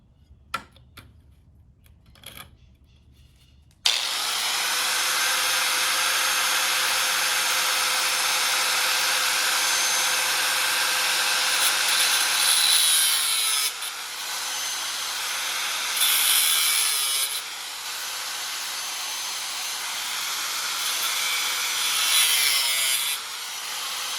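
An iron bar's tip is being cut while building a trucker's lounge chair, a steady, loud sawing rasp running continuously after a few quiet taps, with slight changes in pitch and pressure and no talking.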